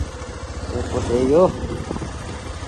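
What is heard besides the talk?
motorcycle engine running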